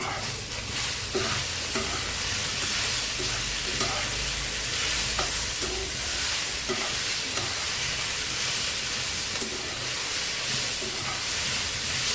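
Fried spice mix with dried chilli is stirred into a fish head and pointed gourd chorchori in a pan, giving a steady, close sizzle with repeated rhythmic scraping strokes throughout and no talk.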